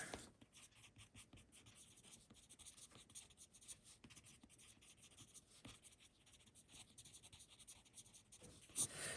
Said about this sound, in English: I'm going to make a little note to put on the back of the card